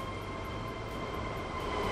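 Train running in the Train Fever video game, a steady rolling rail rumble with faint tonal hums, continuous and fairly loud throughout with no talk.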